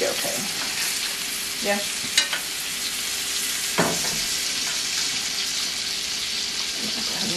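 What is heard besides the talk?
steak and garlic sizzling in a frying pan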